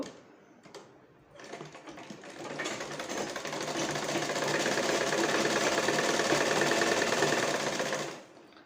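Sewing machine stitching the rounded side of a bra cup, a long continuous close run that builds up, holds steady and then stops.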